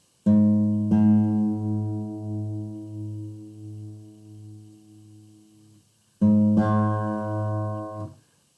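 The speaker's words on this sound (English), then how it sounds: "I'm going to put one of those strings just a little bit out of tune" Two sustained plucked guitar notes ring out, each wavering with a slow pulsing throb as slightly mistuned strings beat against each other, fading before the second strike.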